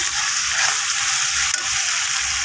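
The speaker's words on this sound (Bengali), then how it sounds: "মশলাটাকে ভালো করে কষিয়ে নেব।" Ginger-garlic-chili paste with turmeric and salt fries in hot oil for a fish curry, a loud, dense, close sizzle that holds steady throughout with one brief stirring scrape.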